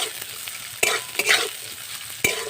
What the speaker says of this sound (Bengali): এখানে আমি দুটো পেঁয়াজ কুচিয়ে নিয়েছি পেঁয়াজটা একটু ভেজে নেব